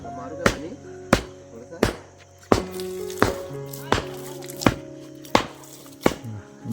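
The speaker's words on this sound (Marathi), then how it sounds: "आता चोपण्याने चोपत आहेत" A hand rammer pounds loose soil being levelled for a village public function at night, giving about nine heavy, evenly spaced thuds, each close and sharp against a low background hum.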